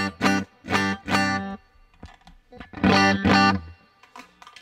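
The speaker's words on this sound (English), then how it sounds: "See a little reverb." Short bursts of guitar chords played through a reverb effect come in two groups of repeated strums, each phrase leaving a soft trailing tail in the quiet gaps between them.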